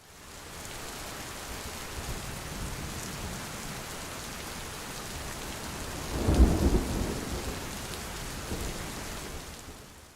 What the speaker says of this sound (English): It's dark and cold with a storm raging.